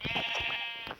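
Sheep bleating in the Minecraft video game, a short wavering game-sound bleat lasting about a second, fairly loud and close with no talk over it.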